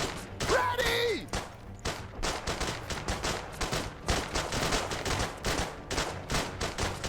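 Engineers in the Iron Harvest strategy game trade pistol fire, with repeated sharp pops and bursts over a dense, rumbling battle mix, plus a whistling effect near the start.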